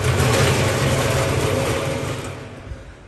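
A 2000-litre horizontal ribbon blender with screw feeder runs with its protection net removed, giving a steady, dense mechanical motor hum and whir that fades slightly toward the end.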